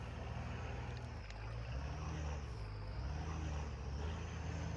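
A GQ Nissan Patrol's engine in Spintires MudRunner drones low and steady as it churns through soft mud at Coopers Creek, the rumble swelling slightly midway and holding continuously without any talk.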